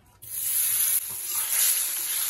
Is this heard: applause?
no